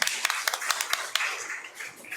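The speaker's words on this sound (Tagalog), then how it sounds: "Mas malakas na palakpak sa ating Panginoon." Congregation clapping during a Mass at the National Shrine, a scattered burst of hand claps with uneven rhythm, moderately close, gradually thinning out.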